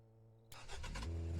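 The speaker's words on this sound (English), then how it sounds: "The sound for the cars is as rudimentary as it gets" A simple looped car engine sound in a car service simulator video game starts abruptly out of near silence and holds a steady, low droning hum for just over a second.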